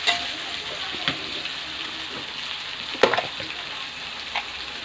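Masala spices with ginger and garlic frying in a kadai for Andhra-style chicken biryani, a continuous close sizzle with occasional stirring knocks against the pan.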